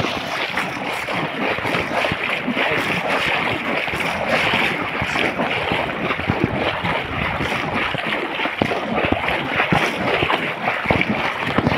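Fast-rising floodwater pouring through a village, a dense, steady rushing and splashing roar that stays loud and close throughout, with no voices over it.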